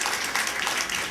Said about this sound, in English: Rounds of applause to Irie College.